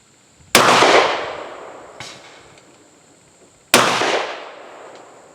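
An Ithaca double-barrel 12-gauge shotgun fires two loud, sharp blasts of short 1 3/4-inch shells about three seconds apart, each echoing off into a long decay, with a faint knock between them.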